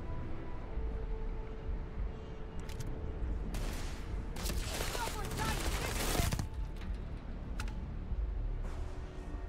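Enemy gunfire in the video game Starfield, bursts of rapid shots clustered in the middle stretch with a few isolated cracks earlier and later, over a continuous background bed.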